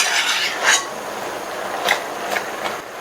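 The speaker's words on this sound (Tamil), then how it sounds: "இந்த ஸ்டேஜ்ல இதை நல்லா இந்த மாதிரி நம்ம கிண்டி விட்டுக்கணும்" Wilting spinach for keerai masiyal being stirred in a pan with a spoon, soft intermittent scraping and clinks against the metal, a few distinct taps among a quiet hiss, no talking.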